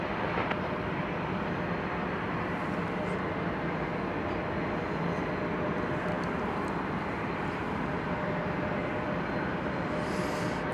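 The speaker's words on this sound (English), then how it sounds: "here comes American Flight 2720, an Airbus A321 destined for Tucson, Arizona" American Airlines Airbus A321 passing at Dallas/Fort Worth Airport, a steady broad jet rumble with a faint whine, continuous and fairly distant, without speech.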